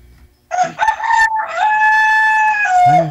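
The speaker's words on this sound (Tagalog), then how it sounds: "Manok." A rooster crows once at close range, loud and clear, the call rising in stepped pitches and holding before trailing off into a brief cluck at the end.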